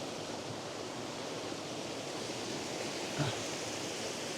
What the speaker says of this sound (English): Lovely big waterfall, it's well worth it.